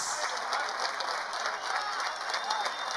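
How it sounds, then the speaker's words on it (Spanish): Crowd applause at the Fiesta Nacional del Chamamé folk music festival, a continuous dense roar of clapping from a large audience, steady and moderately loud for the full few seconds. "aplausos."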